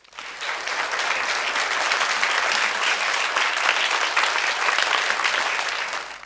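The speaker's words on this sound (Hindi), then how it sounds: "जोरदार तालियां" A crowd in a Buddhist vihar hall gives loud, sustained applause for a child who answered correctly, the clapping swelling quickly and staying thick and even throughout.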